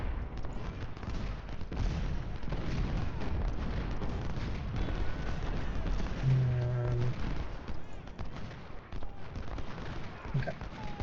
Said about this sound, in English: all of those men are all firing